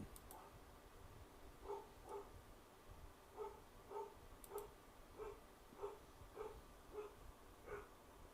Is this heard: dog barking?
yes